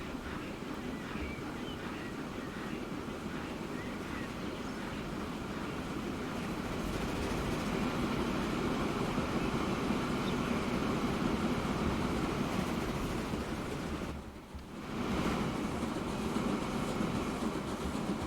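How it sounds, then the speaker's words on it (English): A steel freight train rolls steadily along a railroad loop in the video game Transport Fever 2, its continuous rumble and faint clickety wheel noise sustained throughout, briefly dipping near the end. "Got a steel train on its way back."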